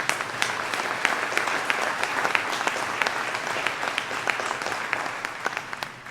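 Sustained applause from an audience gathered for a county year-in-review address, honouring county employees; many hands clap in a dense, even wash for several seconds without talking over it.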